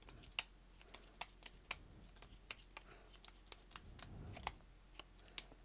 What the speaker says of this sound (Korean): 3번 분들 지금 현재 조언 카드 뽑아볼게요